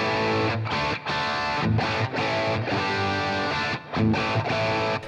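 An electric guitar played through an Axe FX 3 running Plexi and AC30 amp models sounds continuous, driven chords and notes with brief pauses between phrases, loud and up front with no talking.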